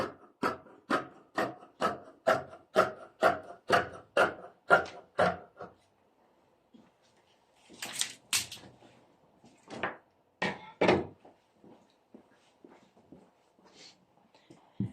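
Scissors cut through fabric for a flared circle skirt, a steady run of about a dozen crisp, rhythmic snips followed by a pause and a few scattered, louder cuts and rustles near the end.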